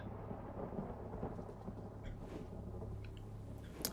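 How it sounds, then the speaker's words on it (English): A thunderstorm in the video game Forsaken Castle, where steady rain and rolling low thunder rumble continuously as a dense, enveloping wash with no talking. "And a storm."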